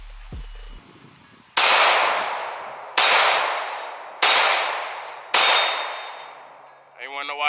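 Four loud pistol shots ring out at even intervals, each a sharp crack with a long metallic ringing decay, fired outdoors; a brief thump precedes them and a voice starts at the end.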